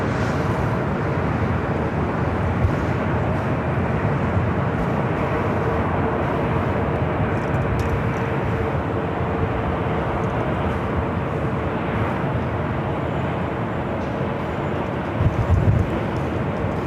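A Boeing 737-800 airliner in SkyTeam livery rumbles at Los Angeles International Airport, a broad steady jet roar lasting throughout at moderate distance, with no voices.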